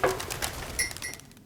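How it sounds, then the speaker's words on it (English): Pigeons near a home make a couple of short calls and rustles, with brief bright chirps and flutter, fairly close and moderately quiet. "The pigeons taunt him like grade school bullies."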